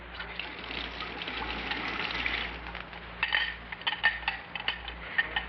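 Water is poured into a glass for a drink, a soft gushing pour followed by light clinks and small splashes, fairly close and quiet, with no talking.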